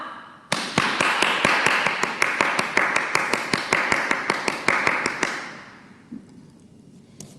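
A school assembly audience clapping: a rapid, regular run of loud, sharp claps in an even rhythm for about five seconds, then stopping abruptly into near quiet.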